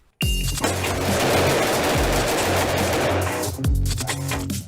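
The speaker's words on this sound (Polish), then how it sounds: "Wszystko ogniem pojedynczym w czasie do 3 sekund" Rapid single-fire gunshots from a long gun at targets in a timed training drill, a dense run of loud close shots with hardly a gap, then a short pause and a few more sharp reports near the end.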